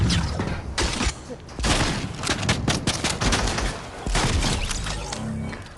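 Shotgun fire in a video game rings out in a dense, loud burst of blasts and booms, with overlapping shots and impacts and some voice mixed in.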